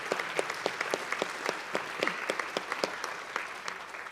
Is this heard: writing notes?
no